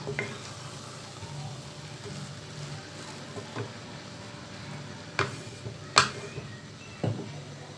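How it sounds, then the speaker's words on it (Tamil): Mushroom mandi rice in a pan, with pepper powder being stirred through it: a steady low sizzle, then a few sharp spoon scrapes and clinks against the pan near the end. "மிளகு தூளையும் போட்டு நம்ம நல்லா கலக்கி கொடுத்துடலாம்"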